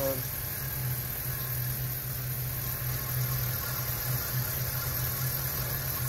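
A 2004 Dodge Ram 1500 with a bad alternator idles with a steady, even low hum and vibration that holds unchanged throughout, heard close with no other sounds rising above it.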